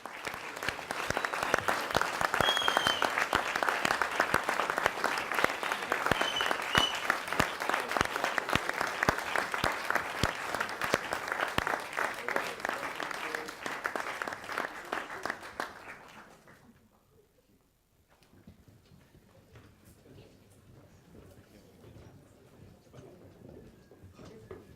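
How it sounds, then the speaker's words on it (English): An audience at a 2018 graduation ceremony gives a long, dense round of applause. The clapping sounds fairly distant in a large hall and continues steadily for about fifteen seconds, then dies away into a quiet room with faint shuffling. "A massive round of applause, please."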